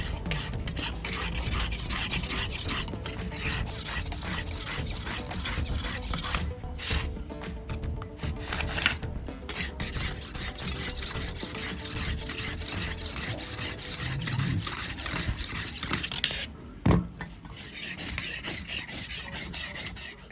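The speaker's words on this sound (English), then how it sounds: "As you're filing, look at it and see how thick it is." A hand file rasps across stainless steel trim in steady back-and-forth strokes, close and loud, pausing briefly a few times before the rhythm resumes, with no talking.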